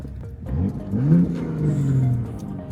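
A BMW F82 M4 with an aftermarket exhaust, valves open, heard from inside during a ride-along: a loud, deep engine drone rising and holding as the car accelerates.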